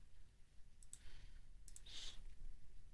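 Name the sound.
mouse clicking in editor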